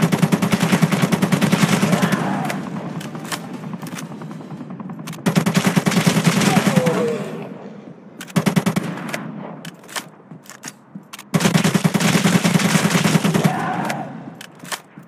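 Automatic gunfire cutting down zombies in the ZOZ: Final Hour mobile game, three loud sustained bursts of rapid shots separated by short pauses with scattered single shots, close and dominant.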